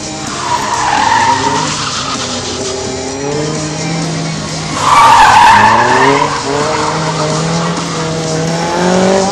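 Cars slide sideways through a slalom drift course with loud, sustained tire squeal and skidding over engine revving, with one squeal swelling louder midway and the squealing continuing steadily throughout.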